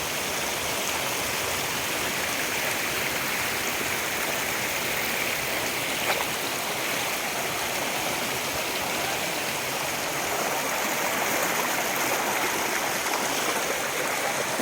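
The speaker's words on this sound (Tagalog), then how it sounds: "Kasili Falls sa Northern Samar. Yan siya guys." Kasili Falls, a waterfall in Northern Samar, sends up a steady, broadband rush of falling water, heard from above the falls as a constant roar with no breaks.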